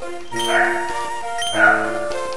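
A dog locked outside barks twice in sharp, whining yelps, each burst rising and falling, heard at moderate distance over a steady background tone.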